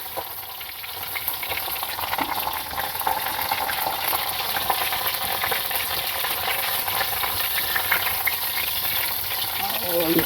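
Chili peppers frying in cooking oil, a loud, dense, continuous sizzle close by that holds steady throughout with no talking.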